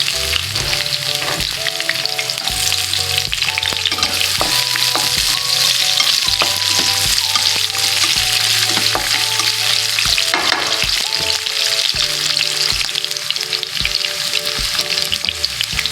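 Onion and spices being sautéed in a pan for pineapple chicken, with a loud, continuous sizzle and frying crackle close by, plus intermittent stirring and scraping, no talk.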